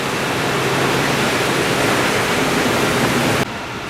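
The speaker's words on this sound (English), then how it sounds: "So here we are at the lazy river." Water rushing steadily at a resort lazy river in Myrtle Beach, a broad continuous hiss that cuts off abruptly near the end to quieter background.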